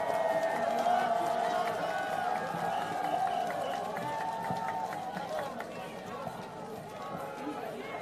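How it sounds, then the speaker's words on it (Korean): A crowd at an outdoor campaign rally on Haeundae's Gunam-ro applauds and cheers in a sustained, dense wash of clapping and shouts, while an amplified voice speaks over it. "큰 박수 부탁드립니다."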